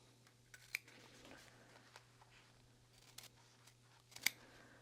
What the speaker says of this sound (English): we need to cut out our bottom corners for the box corner piece